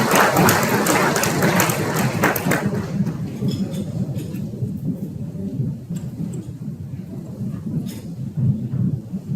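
Audience applause in a large conference room at a Hard Rock Casino on the Cherokee Nation Reservation, a dense burst of clapping that starts loud and thins into a rumbling hum of the crowd.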